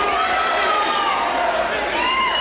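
Wrestling crowd of over a thousand fans in Portland, Maine, chanting for a wrestler at an independent show; a loud, continuous mass of voices fills the hall with a tonal sung chant, with no break.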